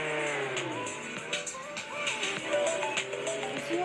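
Car engine droning steadily while driving in the Roblox game Jailbreak, with shifting pitch sweeps as it speeds along over continuous game audio and music.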